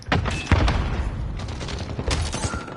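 A grenade goes off in a video game as a sharp, loud blast, followed by a rolling rumble and more scattered bursts of gunfire nearby.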